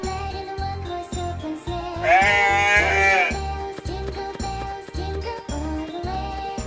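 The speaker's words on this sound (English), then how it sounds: "goat" A single wavering goat bleat rises over an upbeat children's song with a steady thumping rhythm, lasting about a second before the music carries on alone.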